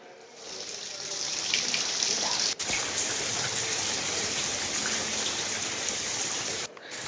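Heavy rain falls amid strong wind in Kollam, Kerala, a dense continuous hiss of downpour that fills the scene, broken only by two very short cuts.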